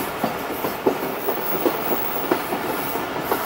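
Pakistan Railways Awam Express passenger train diverting onto a loop line, heard from inside as a steady rumble with repeated clickety-clack wheel beats over rail joints, moderately loud and without talk.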